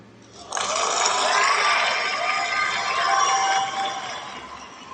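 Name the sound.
studio audience applause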